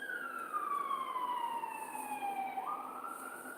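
A distant fire engine siren wails, its tone gliding slowly downward then rising again, faint against a low background hum.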